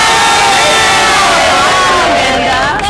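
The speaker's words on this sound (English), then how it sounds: "Can we give Amanda a round of applause?" A rally crowd cheering and whooping loudly, with shouts and clapping blended into a continuous roar that holds close and strong, then eases slightly at the end.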